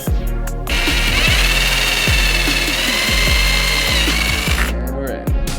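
A power drill bores holes for a race car's body lip, its whine sustained and loud for several seconds between short bursts at start and end, with a steady low thumping rhythm underneath.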